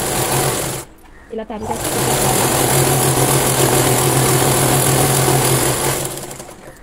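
Electric sewing machine stitching the bottom of a Punjabi dress, a loud, steady, fast-running whir that stops briefly near the start and then runs on, with someone talking briefly during the pause.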